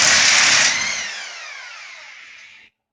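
A Harbor Freight impact wrench works a motor mount bolt through a transmission bracket into the K-member, giving a loud buzzing burst that drops into a whine slowly winding down over about two seconds, with no talking.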